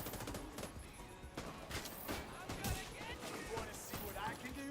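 Rapid gunfire from The Division 2, repeated shots crackling steadily in a busy firefight, with a voice talking underneath.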